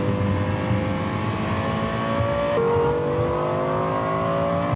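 Lexus LFA supercar with a naturally aspirated 4.8-liter V10 holding a loud, high, smooth engine wail, its pitch stepping down once midway as it keeps howling steadily without any voices.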